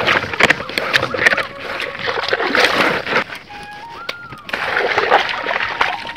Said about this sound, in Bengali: এই মাছগুলো ধুতে একটু বেশি সময় লাগে।